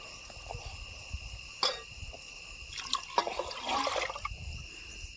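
Quiet trickling and splashing as liquid is poured into a pot, with a faint clink, over a steady background hum.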